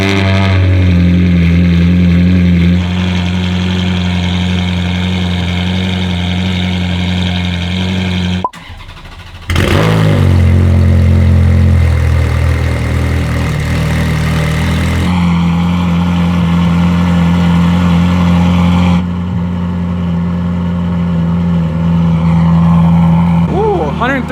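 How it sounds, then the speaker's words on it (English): A Ferrari F430 fitted with a Fabspeed full X-pipe exhaust cold-starts, its engine catching with a loud bark before settling into a loud, steady, high idle that later steps up briefly with a slight rev. "On the cold start, it's pretty loud."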